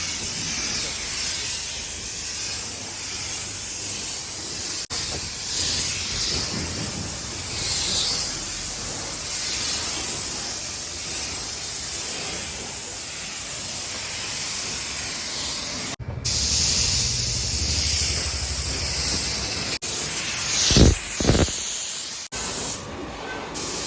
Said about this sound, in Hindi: ये अपना डीजल स्प्रे हो चुका है।